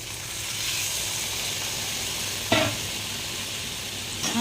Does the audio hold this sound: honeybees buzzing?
no